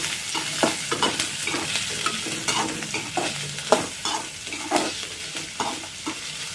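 Onion and green chilli with mustard seeds frying in a pan over raised heat, a continuous sizzle broken by regular scraping strokes of a spatula stirring, close and fairly loud, with no talk.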